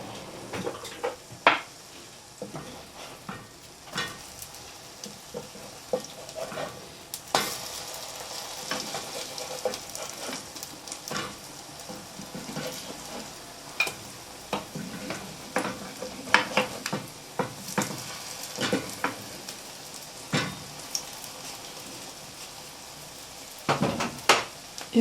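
Russian-style faisselle cheese galettes fry in a pan with a continuous crackling sizzle, punctuated by frequent clinks, scrapes and knocks of utensils and cookware.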